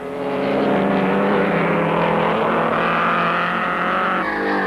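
Close by on a fast circuit, 1930s Mercedes and Auto Union race cars scream past at high revs. Their engine tones rise and shift as the cars sweep by, loud and continuous.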